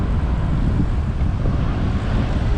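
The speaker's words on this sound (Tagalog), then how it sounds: "Lakas ng hangin." Strong wind buffets the microphone while someone cycles along a bike lane on a commute to work. A continuous, loud rushing roar with low gusty thumps runs unbroken throughout.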